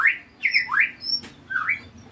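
Bright, varied white-rumped shama (murai batu) song: a series of rising and falling whistled phrases with short pauses between them, clear and fairly close.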